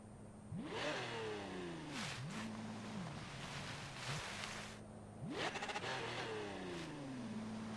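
Car engine in a driving video game, revving up in rising whines that drop and climb again twice, fairly faint and synthetic-sounding, with no talking.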